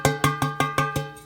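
A foil-lined cake pan for a chocolate cake is banged in a quick, even rhythm, six bright metallic clanks, each ringing briefly before the next, close and loud.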